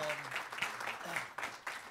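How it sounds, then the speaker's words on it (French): An audience claps together in a sustained burst that swells and fades, with a voice speaking over the applause. "Patrice, on peut applaudir vraiment Patrice Duhamel."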